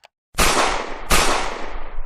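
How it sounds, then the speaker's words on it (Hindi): Two loud gunshots fired in a row as a horror story sound effect, each a sharp blast with a long decaying echo, the second following about three-quarters of a second after the first, with no voices. "वो सभी की सभी गोलियां उस लड़की के सिर पर चला देता है"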